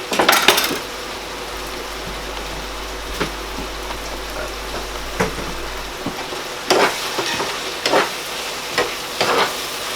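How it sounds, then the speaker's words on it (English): Spaghetti bolognese sauce frying in a pan, a steady soft sizzle broken by scattered clinks and scrapes of a utensil stirring against the pan, with no voices. "The oil's starting to reduce now, or cook out."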